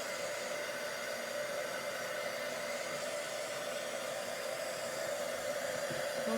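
A hair dryer blows steadily over watercolor paint on paper, a constant close whooshing hum of fan and airflow with an even level throughout and no speech.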